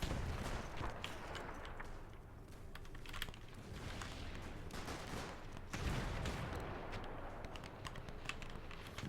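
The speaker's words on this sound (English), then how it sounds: "Their artillery is quite significant here, I'm not going to lie." Artillery and gunfire in the WW1 shooter Between Empires: a dense, continuous battlefield roar with scattered sharp shots and distant booms throughout.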